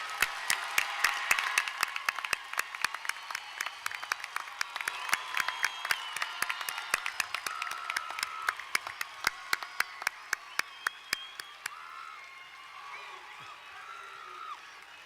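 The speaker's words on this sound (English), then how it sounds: "one more round of applause for the undergraduates today." A large audience applauds graduating undergraduates at a spring university commencement ceremony at Georgia Southern University. Dense, sustained clapping runs steadily throughout and thins slightly near the end.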